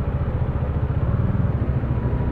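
Rumbling engine noise from a Dominar 400 motorcycle in stopped motorcycle traffic at night, a steady low, throbbing idle with a pulsing rhythm and no voices.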